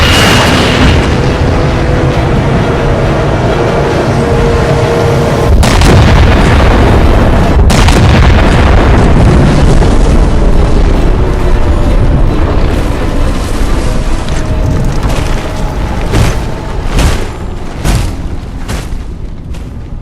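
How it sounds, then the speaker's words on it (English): Heavy ship-mounted weapons fire in the Halo 4 video game, with loud booming blasts and sharp explosive impacts over a constant roar, and a few distinct big hits that fade into crackling bursts. "Target locked. Firing."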